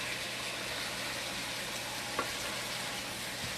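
Lean ground meat frying in a pan for spaghetti sauce, with a steady, even sizzle and crackle heard up close, continuous throughout with a faint clink of a utensil and no talking.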